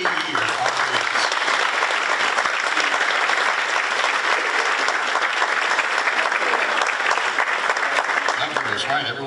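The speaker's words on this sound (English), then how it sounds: "nice round of applause for our 30-year honorees" A large audience applauds for 30-year honorees at a state public service recognition ceremony, the clapping sustained, dense and even from start to finish.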